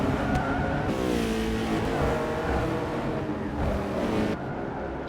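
Racing engine of a 2008 BMW M3 in a sim racing game at Brands Hatch, droning steadily at high revs with shifting pitch throughout, close and continuous with no voices.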